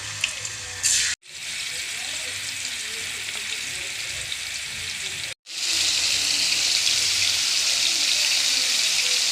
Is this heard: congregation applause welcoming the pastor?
no